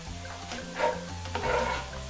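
Mushrooms and onions sautéing in a Dutch oven, a steady close sizzle with a couple of louder stirring bursts as the pan contents are moved around.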